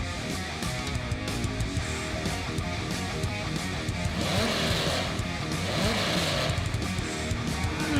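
GT-class race cars roar along a racing circuit, a dense wash of engine noise with passing surges that swell toward the middle and stay loud to the end.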